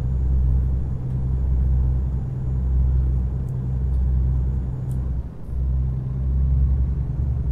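Peterbilt 579 truck engine in American Truck Simulator pulling a load, a steady low diesel rumble droning on without a break at moderate level.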